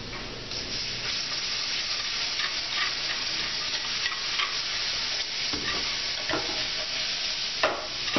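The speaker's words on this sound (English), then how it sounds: "Now I'm going to trickle a little milk in that and make kind of a sauce." Chipped beef fries in a pan with a constant close sizzle as milk trickles in, with stirring scrapes and occasional clicks of a utensil against the pan.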